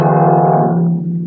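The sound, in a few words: piano playing two low black keys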